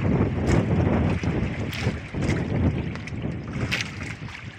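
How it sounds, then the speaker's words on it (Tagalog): Strong wind buffeting a small fishing boat at sea, loud gusty roar and rumble against the microphone with splashy bursts, continuous throughout. "Mahalakas ang hangin."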